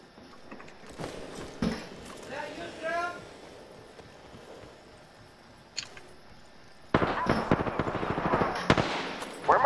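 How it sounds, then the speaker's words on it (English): Gunfire in an Apex Legends match comes as scattered distant pops early, then turns to a closer, louder run of rapid shots in the final seconds, with players talking over parts of it. "Someone shooting at you."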